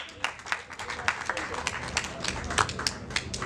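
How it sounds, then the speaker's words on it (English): A small festival audience at a poetry set claps and applauds briefly, with scattered sharp claps over a murmur of voices. "Give yourselves a round of applause."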